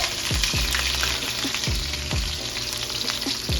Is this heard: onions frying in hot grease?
yes